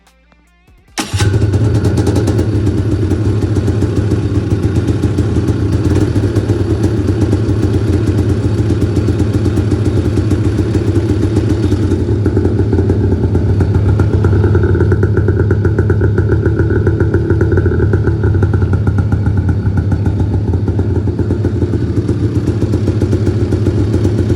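A 400 Blast fitted with a GGB exhaust can fires up after a brief moment of quiet, then settles into a loud, steady, raspy idle that carries on for over twenty seconds.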